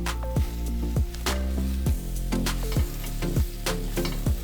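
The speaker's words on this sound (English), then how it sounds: "Give this a little stir. Then we go in with the spinach." Garlic and spinach sizzle loudly in a hot pan, with a steady fry hiss broken by repeated scraping stirs and clinks at a quick, uneven rhythm, close up and without talk.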